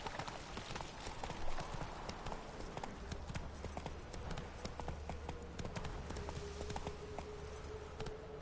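Horse hooves gallop in a steady, rapid clip-clop rhythm inside The Witcher 3 video game, with continuous game ambience underneath.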